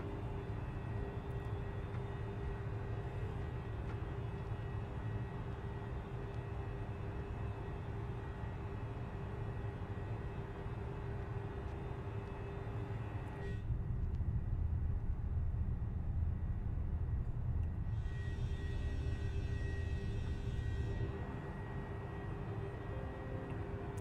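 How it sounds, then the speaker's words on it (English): Steady broadband wind and engine rush inside the cockpit of a simulated Embraer E190 airliner cruising near 38,000 feet, a continuous droning hiss with a brief shift in tone midway, with no talking. "Okay, they adjusted the wind noise."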